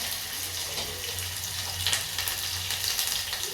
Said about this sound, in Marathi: चांगलंच तापलेलं आहे कांदा पहिला टाकून परतून घेते